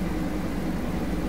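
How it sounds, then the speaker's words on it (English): Steady airliner engine drone from an Airbus A380 in the FSX flight simulator game, a continuous low rumble held at an even level without any break. "the engine noise all of a sudden changed on me there for a minute"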